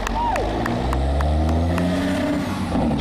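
A race car engine roars loud and close, its pitch climbing steadily with gear changes, while a crowd murmurs faintly underneath.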